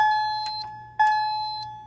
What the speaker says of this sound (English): let's go through these alarms